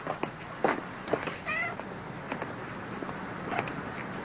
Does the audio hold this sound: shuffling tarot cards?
no